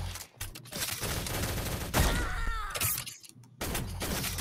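Gunfire in the online egg-themed shooter game Shell Shockers: a dense, loud burst of rapid game shots fills most of the few seconds, with brief gaps and a sharp impact near the middle.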